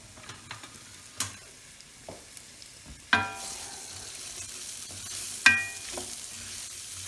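Onion cooking slowly on low heat in a pan for pork chops, a quiet sizzle that swells louder midway, punctuated by scattered sharp clinks and scrapes of a utensil against metal.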